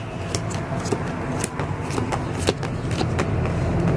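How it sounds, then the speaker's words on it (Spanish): Tarot cards being shuffled by hand in a reading, a steady run of soft riffling and flicking card sounds close up, with no talk over it. "vamos a barajar de nuevo."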